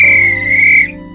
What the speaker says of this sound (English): especially when you have a whistle like this